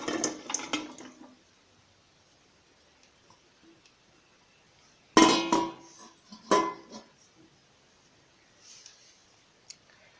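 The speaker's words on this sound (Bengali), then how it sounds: "আমি একটি পাতিল নিয়ে নিয়েছি, এখানে ভুড়িগুলোকে ঢেলে দিব।" Cow tripe is tipped into a cooking pot in a kitchen with a few wet, sloshing splats and clunks, two short bursts separated by quiet, followed by faint small clicks.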